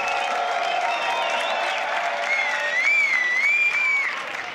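A crowd applauds and cheers after a beatbox loopstation battle semi-final, with sustained loud clapping and whistles over the roar of the audience, continuing steadily before easing slightly at the end.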